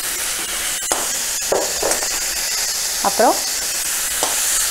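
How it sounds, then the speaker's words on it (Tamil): Grated cabbage and capsicum sizzle and hiss steadily in hot oil in a pan, a constant frying noise with occasional stirring scrapes while a person speaks briefly over it. "ஸோ இப்போ வந்து ஒரு கப் கேபேஜ் போட்டுக்கிறேன்"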